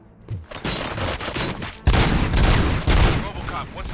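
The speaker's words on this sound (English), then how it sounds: "Gunshots? What's going on?" Gunfire in Robocop: Rogue City, a dense, loud, continuous burst of rapid shots and heavy thumps with sharp booming surges, going on without pause.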